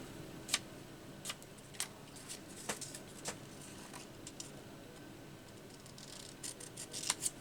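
Scissors snip paper for a collage in sparse, faint, crisp clicks spaced irregularly over a quiet room background, with a small cluster of cuts at the end.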